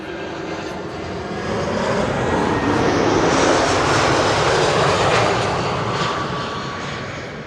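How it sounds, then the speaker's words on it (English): An Air Arabia Morocco airliner arriving from Tangier roars past on approach to Schiphol, its engine noise swelling to a loud broad rush and then easing slightly, with no voices. "Air Arabia Morocco arriving from Tangier."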